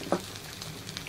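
A Korean green onion pancake (pajeon) sizzles steadily in hot oil as a soft, continuous crackle, with one brief louder clink near the start.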